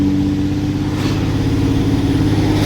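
A red dually pickup with a 48RE automatic transmission, set in tow/haul mode, pulls and accelerates, its engine droning loud and close in a steady low rumble that rises slightly, with no voices.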